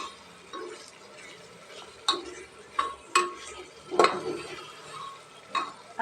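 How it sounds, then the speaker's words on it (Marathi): Biryani masala sautés in a pot, with sparse spatula scrapes and metallic clinks against the pot over a faint, quiet sizzle. "आता छान असं आपण हे परतून घेऊया"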